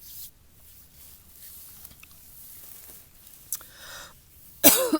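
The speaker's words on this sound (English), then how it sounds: "I wonder why I'm coughing right now." A single sharp cough bursts out near the end after a quiet stretch, close and loud.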